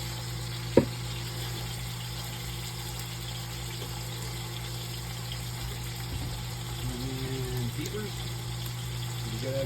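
Garlic sizzling quietly in a hot pan, a steady low frying hiss running throughout with a brief clack near the start and faint kitchen hum underneath.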